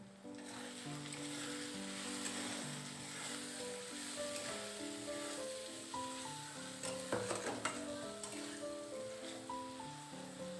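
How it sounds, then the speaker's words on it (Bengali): Spices with Kashmiri chilli powder and turmeric sauté in a pan for chicken kosha, a steady close sizzle with occasional scraping, partly masked by louder background music. "এবার আমি সমস্ত উপকরণগুলোকে আবারও ভালো করে কষিয়ে নিচ্ছি"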